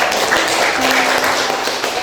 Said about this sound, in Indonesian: tepuk tangan dong untuk kelompok 1